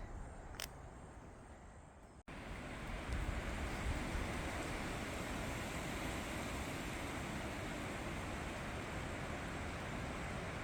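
Wind rushing through trees outdoors, a steady broadband roar that swells after a brief click and holds loud and continuous with no voices.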